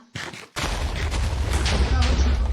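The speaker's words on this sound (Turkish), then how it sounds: "Obsidyenler patlamaz vardı onu biliyorum ama yine de patlatıyorum." Explosions blowing up obsidian in a video game, a quick burst followed by a dense, continuous string of loud booming blasts close up.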